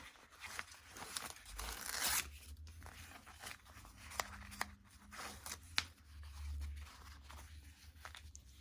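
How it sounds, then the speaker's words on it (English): Paper backing peeled off an embroidered appliqué, giving a close, quiet run of tearing and crinkling with several sharp rips and crunches, no voices. "we'll want to remove that paper backing, or you're going to have a crunchy applique"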